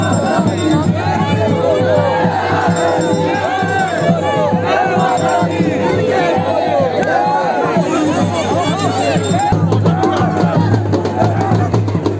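A dense crowd of devotees at a village temple procession in Uttarakhand, where the goddess's palanquin arrives; loud, continuous babble and shouting voices with drums or music underneath, steady throughout.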